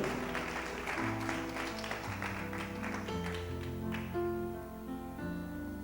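A congregation applauds at a church service, the crowd's clapping fading gradually beneath sustained keyboard chords.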